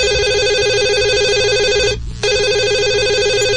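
A landline telephone rings loud and close, a steady electronic ring that breaks off briefly near the middle and then resumes, with no talking over it.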